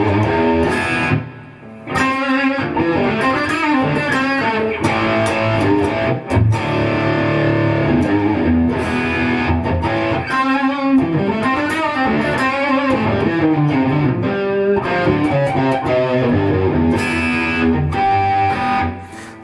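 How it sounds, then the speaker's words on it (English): Distorted electric guitar runs through a NuX Bumblebee pedal set to plate reverb with heavy amplifier gain, loud sustained chords and riffs ringing out with a lush reverb tail, played alone without talking. "I will put it on a plate reverb."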